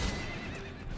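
Horse neighing in the video game Prophesy of Pendor, a short dense whinny over the clatter of hooves, loud and close, with no voices.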